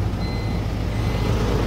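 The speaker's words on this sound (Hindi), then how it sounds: "आप इसके इंजन की साउंड सुन सकते हैं।" An Ashok Leyland 1915 truck with a 3839 cc four-cylinder diesel engine idles nearby, a steady low rumble with a thin tonal whine above it and no voices.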